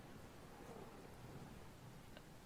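Thunderstorm sound effect: steady rainfall with a low, continuous rumble of thunder, faint and unbroken, no voices.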